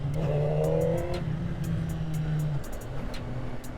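A 2003 Honda CBR600RR motorcycle engine revs up loudly and holds a high note, then drops back to a lower, steadier running hum.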